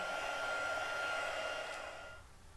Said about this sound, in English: I'm going to give it another little blast with the heat gun so that it's dry